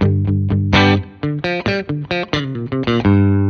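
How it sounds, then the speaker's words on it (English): An electric guitar, Fender Lead II or III, plays a quick, choppy riff of plucked notes and short chords through both pickups in split-humbucker mode, clean-ish and bright, with no talking. "if we go to the middle position on the pickup selector, now we have both pickups on."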